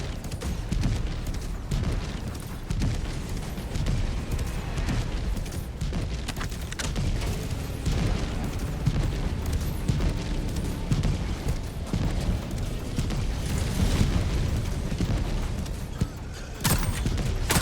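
An outpost being destroyed in Helldivers 2, with dense, continuous rumbling explosions and bursts of gunfire layered into a loud, chaotic battle roar, with a sharp crack near the end.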